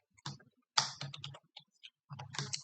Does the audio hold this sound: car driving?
no